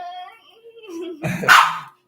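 A dog named in a household scene gives a sharp, loud bark burst near the end, following a stretch of whining, whimpering tones; close and alone with no talk over it.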